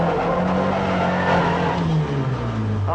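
A car engine roars loudly with a falling pitch as it slows sharply, tires faintly squealing near the end.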